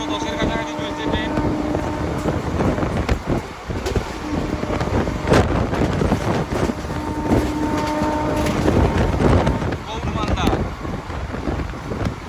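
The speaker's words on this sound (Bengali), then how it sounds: "প্রায় 110-এর কাছাকাছি চলছে ট্রেন।" An express train runs at about 110 km/h past an intermediate station, giving a loud, constant rumble and rattle with wind roar and sharp clacks from the track, heard from inside the moving train.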